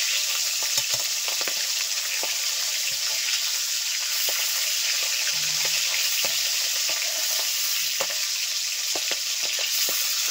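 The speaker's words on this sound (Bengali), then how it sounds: "আস্তে আস্তে মাছগুলোকে ভেজে নেব।" River fish frying in hot oil over medium heat: a continuous crackling sizzle with scattered sharp pops and spits, steady in level throughout.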